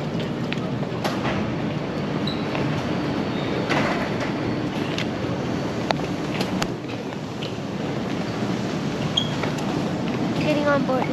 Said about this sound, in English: there's the train. Train's right over there.